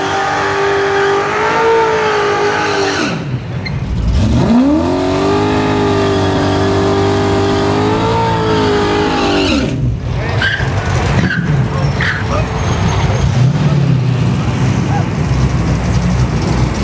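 A gutted Tesla Model S Plaid launches on a drag strip pass, its electric drive whine climbing steadily in pitch for several seconds and then dropping away, followed by loud road and wind roar with scattered clunks. Voices murmur faintly underneath.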